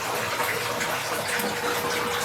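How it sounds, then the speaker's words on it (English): Water pours and gushes steadily during a water change in a Shubunkin goldfish tank, a close, continuous hissing splash with no pause. "I'm doing a water change on my Shubunkin Goldfish with the bunkins"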